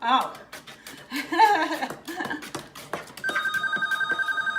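A telephone rings in a home kitchen during holiday fudge making, a steady repeating electronic ring arriving after a burst of laughter and chatter and continuing loudly to the end.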